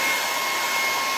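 Hair dryer blowing steadily on stencilled paint on a wood sign, a continuous loud airy whoosh with a faint whine, close by and alone.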